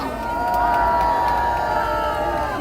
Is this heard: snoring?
no